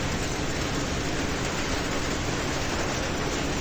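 Train cars roll on rails in Trainz Railroad Simulator 2019 on a Central European route, a constant dense rumble and rattle that stays loud and even throughout, with no speech.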